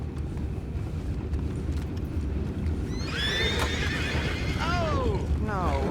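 Horses in the video game Red Dead Redemption whinny in loud, wavering calls over a steady patter of hooves and low rumbling background noise.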